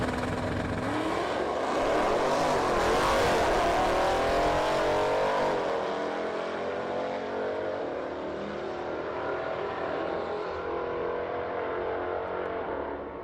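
Racing car engines in Need for Speed ProStreet, a loud roaring rev that climbs and swells near the start, then settles into a sustained high engine drone with no talk.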